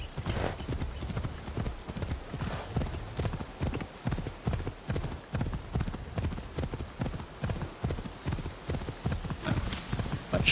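Horse hooves clip-clop steadily in a video game, a fast, even rhythm of close, distinct hoof strikes running the whole time, with an occasional whinny and no talking.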